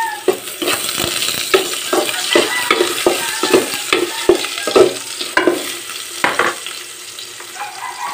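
Aromatics sautéing in hot oil, with a loud continuous sizzle broken by rhythmic scraping and stirring strokes of a utensil against the pan.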